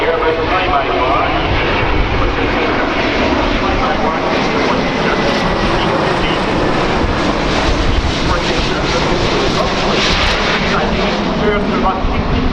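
An Airbus A350 jet airliner with Rolls-Royce engines flies a tight demonstration display at an airshow, its engine roar steady and loud throughout, with a commentator talking over it.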